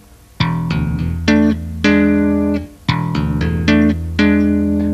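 A guitar tapping passage opens with a thumb slap on open E, followed by hammer-ons and double-stop hammer-ons. About nine bright plucked and tapped notes ring out sharply, each one sustaining up close with no talk.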